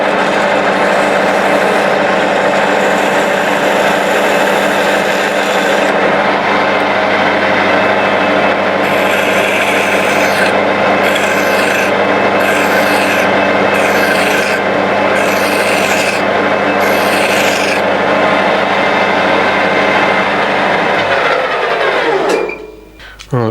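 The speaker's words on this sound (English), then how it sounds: "Let's put a chamfer on that edge." A hand file rasps steadily along the edge of a metal weather vane part to put a chamfer on it, loud and close, in long continuous strokes that stop near the end.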